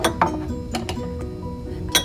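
Drinking glasses, some filled with colored water, clink lightly as they are set down in a circle: a handful of sharp, separate taps spaced across the moment, fairly faint and close.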